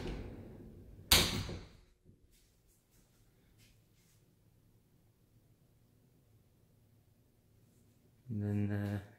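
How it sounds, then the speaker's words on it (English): Pocket door in a new house office sliding along its track, a sharp loud thump or slam near the start, then quiet room tone before a burst of noise at the end. "This guy has a pocket door."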